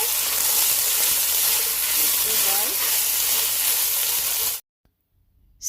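Pepper steak mixture seasoned with onion powder and black pepper being stirred in a hot pan, giving a steady close sizzle and faint scraping for several seconds before it cuts off abruptly into near silence.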